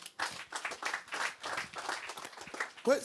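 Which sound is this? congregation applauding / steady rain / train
congregation applauding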